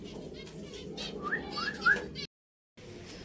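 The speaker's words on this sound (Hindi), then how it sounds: "मिठू आ जा, मिठू मिठू कौन है ये मिठू है मिठू" A pet parrot calling in an aviary gives a few faint, short whistling chirps in quick succession over low background noise, followed by a moment of silence.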